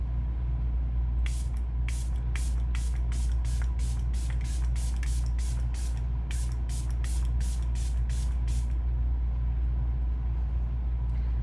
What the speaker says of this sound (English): So I just spray this all over